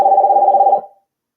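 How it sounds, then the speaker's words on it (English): A phone rings with an incoming call: a single steady electronic ring lasting under a second, close and fairly loud, then cutting off into silence. "Am I getting a damn call here?"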